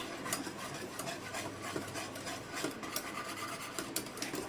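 Mango sharbat being mixed by hand, a steady rhythmic rasping and stirring of the pulp in a container, close and continuous with no talk.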